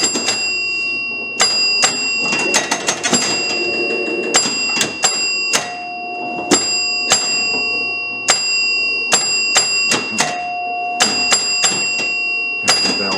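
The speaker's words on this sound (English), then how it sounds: "There's the bell and the chime." Bell and chime of a 1972 Williams Spanish Eyes pinball machine ring out in sharp, repeated metallic strikes at an uneven rhythm, loud and close, with sustained tonal rings amid steady mechanical clatter.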